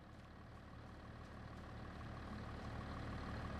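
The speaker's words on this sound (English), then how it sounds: "Let's go ahead and hop back into the tractor." A tractor engine idles at a steady low rumble in the Farming Simulator 25 video game, a constant, even drone on the Drumard Farm map with no talk.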